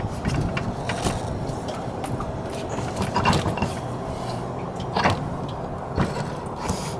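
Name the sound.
scooter gears turning in the gearbox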